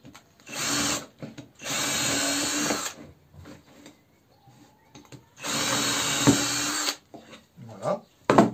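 Power drill boring two holes through a wooden pollen trap for a beehive, two sustained close whirring bursts of about a second each separated by quieter handling noises, with light clicks and knocks at the end.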